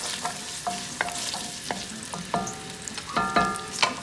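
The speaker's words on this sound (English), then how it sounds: "I'm gonna bring those up and let them sizzle a little bit" Sliced red onions sizzle in a hot pan with toasted spices, a steady frying hiss broken by a few sharp clinks and scrapes of a utensil stirring.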